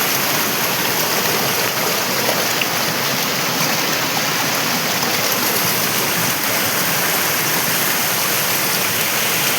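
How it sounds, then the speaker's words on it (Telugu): A mountain stream rushes fast down a hillside in a dense, steady roar of water that stays loud and close throughout, with no voices over it. "చూడొచ్చు ఎంత కొండపై నుంచి వచ్చే వాటర్ అన్నమాట ఇదంతా. చూడొచ్చు అసలు ఎంత స్పీడ్గా వస్తున్నాయి వాటర్."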